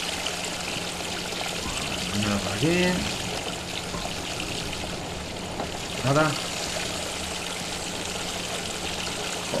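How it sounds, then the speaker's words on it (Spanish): Water gushing and trickling steadily in a grimy hotel bathroom in the horror game Fobia: St. Dinfna Hotel, a constant flowing stream under brief bursts of someone talking. "Y el agua saliendo a chorro"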